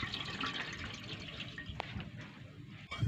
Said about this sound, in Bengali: উপর থেকে এবার বেশ কিছুটা ঠান্ডা জল এইভাবে দিয়ে দেব, যাতে পাস্তাগুলো যে কাদা কাদা ভাব আছে সেটা চলে যায়